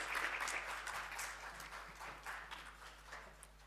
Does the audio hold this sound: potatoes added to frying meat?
no